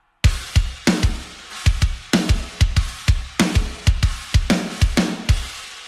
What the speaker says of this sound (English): altogether, drums sound like this